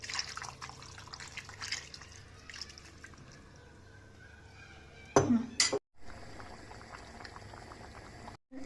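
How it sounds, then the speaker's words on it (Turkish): Tomato-paste water is poured over a minced-meat zucchini dish, producing quiet liquid bubbling and trickling, then a short burst of splashing and a clink of cookware near the end. "Salçalı suyu üstüne gezdireceğim."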